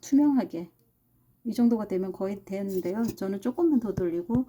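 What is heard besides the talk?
None of the usual background noises is heard.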